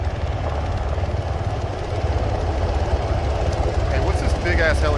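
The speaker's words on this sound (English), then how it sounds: "what's this big ass helicopter here?" Heavy rotor thumping of a military helicopter in the video game ARMA 3, steady and close, with engine drone and faint radio-style chatter near the end.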